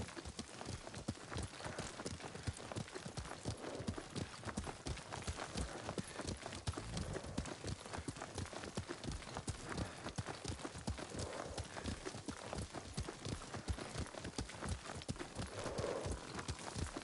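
Horse hooves pound at a steady gallop in the samurai game Ghost of Tsushima, a fast, continuous clip-clop rhythm running throughout, close and fairly loud with faint game ambience beneath.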